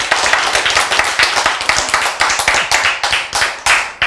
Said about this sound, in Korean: 박수를 왜 그렇게 쭈뼛쭈뼛 하고 있는가?